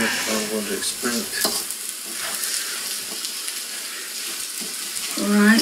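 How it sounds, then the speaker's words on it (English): Egg fried rice is stirred in a sizzling pan, a steady frying hiss with scraping strokes throughout, while a voice speaks briefly at the start and end. "all I can do about this now is just keep stirring it"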